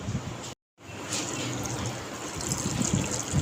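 Water is poured into a pot of chana daal for kadhi, a steady splashing gush that starts after a brief silence and carries on, close and moderately loud.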